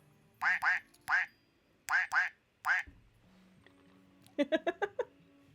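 A person imitates a duck in a game stream, giving a run of loud, nasal quacks in pairs and singles, then a faster burst of five quacks over a faint background hum.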